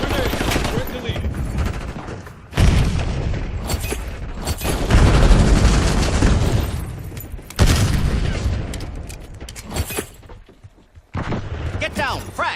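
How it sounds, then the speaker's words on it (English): Grenade blasts and bursts of gunfire in a zombie video game, loud and dense with booming impacts and rapid shots that come in waves, with a few brief gaps and game voices mixed in. "Watch out, grenade."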